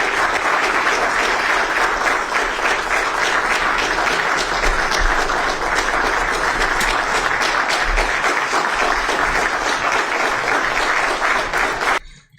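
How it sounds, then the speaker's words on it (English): An audience at an event with Donald J. Trump in Japan claps loudly and continuously, a dense unbroken wall of applause lasting about twelve seconds before cutting off abruptly. "Infinite clapping jutsu, they never stop."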